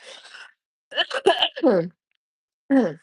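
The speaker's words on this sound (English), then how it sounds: "I swear I just sneezed like a gazillion times." A person sneezes repeatedly while getting their hair done: a breathy burst first, then a close, loud cluster of voiced sneezes and gasps, a short pause, and one more strong sneeze at the end.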